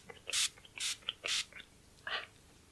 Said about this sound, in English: Then some setting spray.